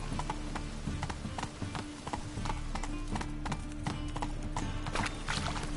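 A horse gallops in The Witcher 3 video game on PS5, with quick, rhythmic hoofbeats running steadily under a layer of game ambience and music, fairly faint.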